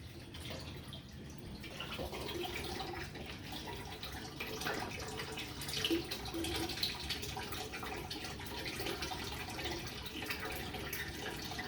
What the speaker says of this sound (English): Now we have but to find a comfortable position for this water to keep draining into this tank.